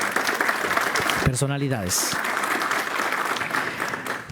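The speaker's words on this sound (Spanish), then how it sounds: "Les damos un aplauso a nuestros" Applause from a conference audience welcoming dignitaries at an electoral governance event, steady clapping throughout with a brief spoken word from a speaker near the middle.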